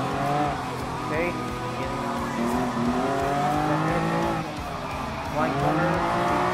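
Lamborghini race cars in a Gran Turismo Sport Lamborghini Cup race, engines droning and shifting pitch as they rev through a corner, with brief tire squeal. Someone talks continuously over the steady engine noise.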